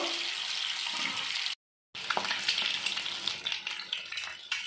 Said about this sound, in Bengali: ডিমগুলো হালকা ভেজে নেব।